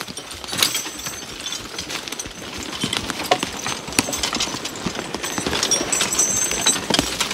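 A draft horse walks up a logging trail, hooves landing in a steady, uneven clip-clop on rough ground, with scattered knocks and crunches close by.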